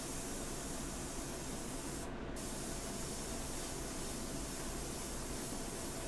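An airbrush sprays India ink in a continuous, even, close hiss that holds steady throughout, with one brief dip in the spray.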